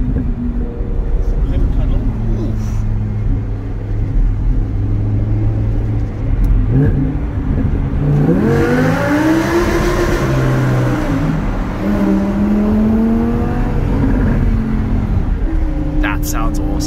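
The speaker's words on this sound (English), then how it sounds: "that Akropovich exhaust was definitely a great addition" A Vegas Yellow Audi R8 fitted with an Akrapovic exhaust revs loudly, with rising and falling engine sweeps building in the second half, and people talking over it.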